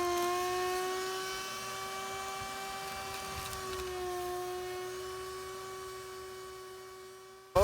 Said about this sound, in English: you can get a shop vac and vacuum it out.